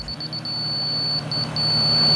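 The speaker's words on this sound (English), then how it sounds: "that solid beep is telling me this is directly in line with that laser" A laser level receiver emits a solid, steady high beep. A few short pulsed beeps at the start and middle settle into a continuous tone over low background rumble.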